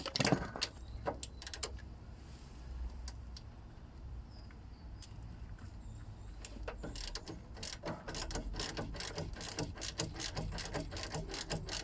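A hand ratchet fitted with a 14mm socket clicks in quick, uneven bursts at close range, with short pauses between runs of sharp ticks over a faint background hum.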